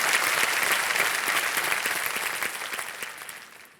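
Studio audience on a television quiz show applauding a departing contestant, a full dense wash of clapping that stays loud and even before tapering off toward the end.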